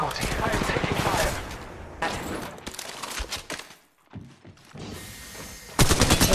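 Rapid automatic gunfire in the mobile battle royale game Apex Legends Mobile, dense bursts that break off briefly and then resume loudly, with game voice callouts mixed in.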